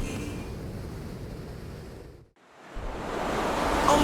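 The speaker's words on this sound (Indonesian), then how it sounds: "Ombak Serambi mengalun tinggi di pantai ini." Ocean waves surge on a beach as a loud, broad wash of surf that fades briefly, then swells back up and builds louder.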